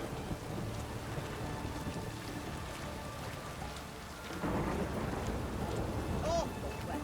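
In the video game The Witcher 3: Wild Hunt, rain pours steadily through a dark stormy night, a dense hiss of drops that swells louder partway through, with low thunder rumbling beneath.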